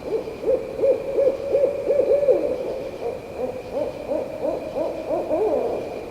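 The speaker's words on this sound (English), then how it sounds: "That was the sound of an owl." An owl hoots repeatedly in a rapid series of mid-pitched, wavering calls that rise and fall, fairly loud and close, running through the whole stretch against a faint steady background hum.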